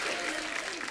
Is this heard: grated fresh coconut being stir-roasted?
no